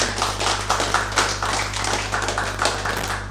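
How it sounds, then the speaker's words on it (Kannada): Loud, close hand clapping during a free therapy session, a quick run of steady rhythmic claps over a low constant hum. "ಜೋರಾಗಿ ಚಪ್ಪಾಳೆ ಅಪ್ಪ"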